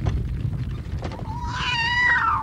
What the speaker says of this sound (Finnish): Oh, pikkukisu yksinään.